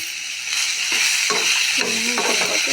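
Garlic and cumin fry in a pan with a steady sizzle, broken by several scraping stirs that grow louder partway through.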